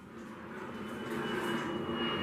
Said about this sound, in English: it's a loud ass jet out there.